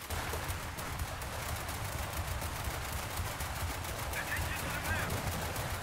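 Enemy tank gunfire crackles in a War Thunder battle, rapid machine-gun bursts rattling continuously at moderate distance over a steady low rumble of combat noise.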